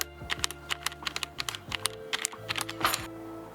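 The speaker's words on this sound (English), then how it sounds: "you can just shake the keyboard" A Roccat Vulcan Aimo 120 keyboard shaken to clear out crumbs, giving quick clusters of close, sharp plastic rattles and key clatter in an uneven rhythm.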